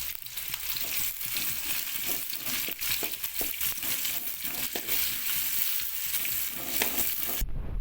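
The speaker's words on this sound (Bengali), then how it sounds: "আমাদের অয়েল গরম হয়ে গেছে, তো পেঁয়াজ কুচি আর কাঁচা লঙ্কা দেওয়া হলো।" Chopped onion and green chili sizzle in hot oil, a dense, steady frying hiss close up with occasional stirring crackles, cutting off abruptly near the end.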